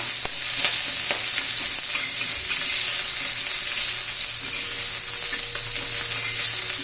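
Curry leaves being sautéed until crisp in a pan make a loud, continuous hissing sizzle with light stirring scrapes throughout, and no voices are heard.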